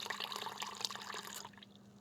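Water pouring into a measuring cup to the one-cup line for cooking rice in a Prius camper, a steady splashing trickle that runs for about a second and a half, then stops.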